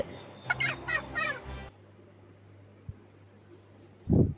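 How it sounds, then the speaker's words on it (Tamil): A parrot gives a quick burst of loud, rasping squawks, then falls silent. One more sharp call comes at the end over a faint steady hum. "ஹாய் குழந்தைகளா, நான் தான் கிளி"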